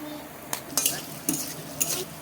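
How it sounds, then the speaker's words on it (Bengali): Chopped potato and vegetables for egg chowmein are stirred in hot oil. Four or five distinct scraping strokes of a spatula against the pan ring out over a soft, constant sizzle, close and fairly quiet. "একটু ভাজার পরে সবজিগুলো দিয়ে দেবো।"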